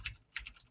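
Keys tapped on a computer keyboard, a few quick, faint clicks in a brief burst with no talking.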